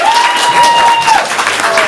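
Loud audience applause at a live ComedySportz improv comedy show, steady clapping with a sustained whistle-like tone running through the first half, lasting the whole moment.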